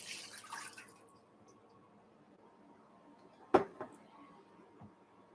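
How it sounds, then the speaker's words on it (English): Warm water is poured off eggs in a bowl: a short splashing pour at the start, then quiet with a single hard clunk of the bowl and a couple of faint knocks near the end. "I'm going to remove the water."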